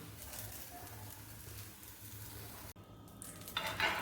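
Sprouts uttapam sizzles steadily on a hot tava, a continuous close crackle with occasional scraping or stirring touches, a short clean break near the end, then the sizzle resumes.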